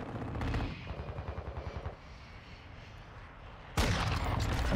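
Automatic gunfire in a first-person shooter video game, with a rapid burst of shots, a quieter pause and then another loud sustained burst, heard up close.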